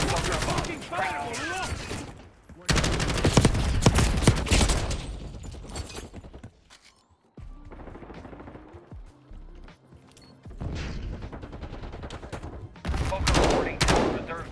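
Gunfire in Call of Duty: Black Ops 6, loud bursts of automatic fire in several separated volleys with brief quieter gaps between them, mixed with game voices and shouted talk.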